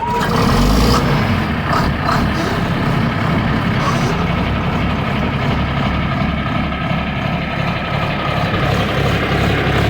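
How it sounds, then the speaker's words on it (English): A 1980 John Deere 4440 tractor's diesel engine with an inline Bosch pump runs steadily with a deep, rumbling idle, a few brief knocks near the start, then an even, continuous drone throughout. "Let's see if it'll crank up and run."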